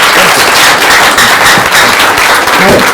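Studio audience applause at the close of a talk show, a loud dense wash of clapping that holds steady for a few seconds.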